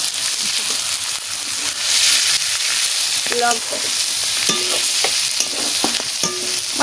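Oil heating and frying in a pan while fish curry spices are prepared, a loud continuous sizzle with a few clinks of a spoon stirring, no talk.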